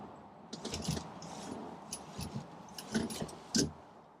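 Keys jingle and clink faintly as the key is pushed into place in a 1950s Meadows Frisky Family Three British microcar, with small metallic taps and rattles, close and otherwise quiet.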